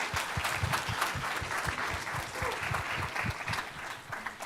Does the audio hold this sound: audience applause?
yes